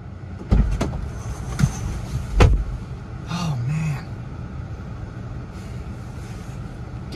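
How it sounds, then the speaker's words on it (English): A car is started by remote start outdoors, giving a few loud clunks and thumps and then a brief cranking whirr before the engine settles into a low, steady idle in the background. "wish I didn't have to come outside every single time to start my car"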